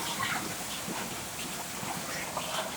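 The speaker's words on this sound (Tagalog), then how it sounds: "Oh, lakas ng ulan doon guys." Heavy rain falling outside during flooding, a steady, fairly faint hiss of water with gusty noise, continuous and without voices.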